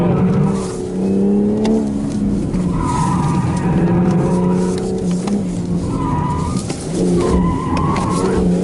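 A BMW 340i on Michelin PS4S tyres driven flat out around an autocross course, engine droning and rising through gears while the tyres squeal and skid almost continuously, loud and close from inside the car.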